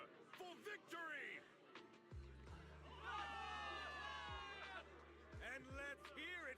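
A crowd of soldiers cheers and shouts in the video game Zenless Zone Zero, with overlapping excited voices and a burst of cheering mixed with footsteps and low thumps. The sound is faint and distant.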